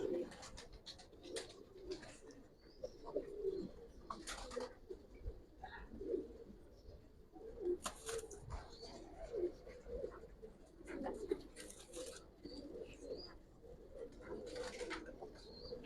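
Giribaz pigeons coo softly and repeatedly in a close group, with low burbling calls overlapping amid scattered sharp rustles and taps.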